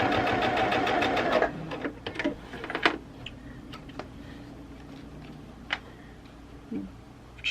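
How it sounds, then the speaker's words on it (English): Sewing machine stitches a folded star potholder in a rapid, close mechanical run for just over a second, followed by quieter ticks and handling clicks. "I'm following this line here."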